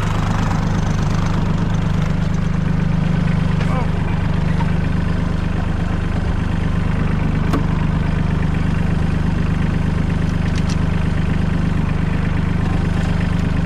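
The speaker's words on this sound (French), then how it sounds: "Maintenant j'avance le tracteur." A steady, low tractor engine idles throughout, a continuous rumble with no breaks, close and fairly loud.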